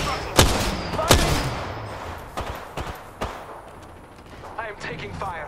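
Gunfire in the video game Apex Legends: several loud, sharp shots at uneven intervals, with a few quieter bursts trailing off and faint voice-like sounds near the end.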